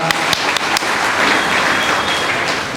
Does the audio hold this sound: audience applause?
yes